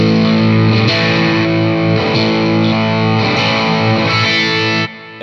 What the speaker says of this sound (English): in parallel, you've got that slightly stringier, twangier thing, which can be really cool